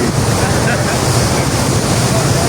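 Floodwater surges down the Ravi river after its embankments have burst, a loud, continuous broadband roar with wind buffeting the microphone and no pause across the whole stretch.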